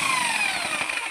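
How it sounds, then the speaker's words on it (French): Electric drill whirring steadily as it mixes sand with water, a continuous high-pitched motor whine that stays loud and close throughout, with no talking. "on va mélanger encore avec la perceuse pour bien"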